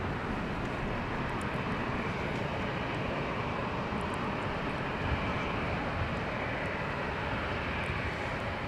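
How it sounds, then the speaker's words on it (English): A United airliner takes off from LAX, heard as a continuous heavy jet engine roar that holds steady and loud throughout, with no voices. "So there's United getting airborne for San Francisco, California."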